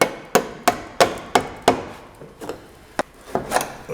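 Chisel hits ring out on a car's rear floor panel during removal, a series of sharp, close metallic whacks in quick succession, some evenly spaced and then a looser, uneven cluster.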